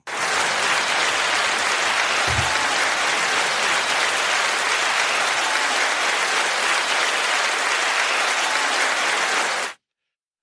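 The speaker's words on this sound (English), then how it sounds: "enough with the clapping" A studio audience bursts into loud, sustained applause to welcome a guest onto a podcast. The clapping is dense and steady for about ten seconds, then cuts off abruptly.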